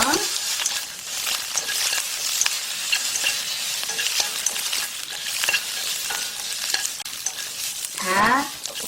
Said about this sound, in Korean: 간장 약간만 넣어주세요. 살짝 볶아주세요.